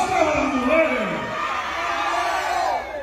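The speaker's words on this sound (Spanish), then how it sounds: "¡El grito de las mujeres!" A crowd of women lets out a loud, high-pitched group shout and whoop at a patronal fiesta dance in Jicayán de Tovar. The massed voices sound close and sustained, trailing off slightly over about three seconds.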